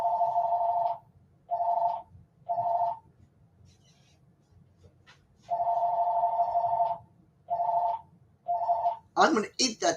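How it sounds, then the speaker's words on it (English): A telephone rings in repeated bursts, two short rings followed by a pause and then a longer ring, loud and close, with a voice briefly heard near the end. "There goes the phone."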